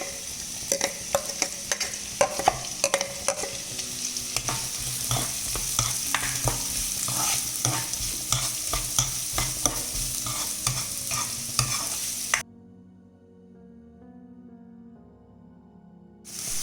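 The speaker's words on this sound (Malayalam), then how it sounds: "ഇനി നമുക്ക് ഇതിലേക്ക് അരിഞ്ഞു വെച്ചിരിക്കുന്ന സവാളയും കൂടി ഇട്ട് കൊടുക്കാം." Sliced onion and green chilies fry in hot oil while being stirred, a steady loud sizzle broken by frequent scraping stirs, before it drops away near the end.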